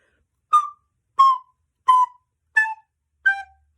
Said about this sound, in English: And now if I were to play that staccato so that you can hear what that sounds like